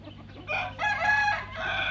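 Chickens and a rooster in a backyard coop in the morning, with a clear rooster crow rising twice over soft background clucking, close and fairly loud.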